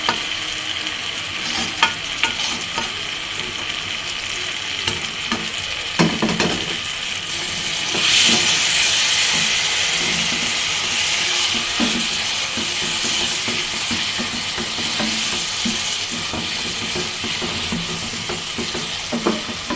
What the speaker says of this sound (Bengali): সিদ্ধ কচুগুলো দিয়ে দেব।